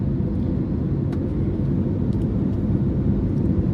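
Steady low roar of an airliner cabin in flight on a trip from Kathmandu toward Delhi, a constant broadband engine and air rumble with faint clicks, no voices.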